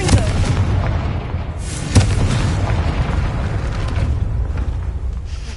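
A Confringo fire-spell blast in Hogwarts Legacy lands as a loud, sharp boom over a thick, roaring rumble of explosion and debris that continues steadily, with no speech.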